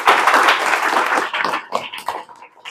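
Students in a classroom give a loud burst of group clapping that starts full and dense, then thins into scattered claps as it dies away.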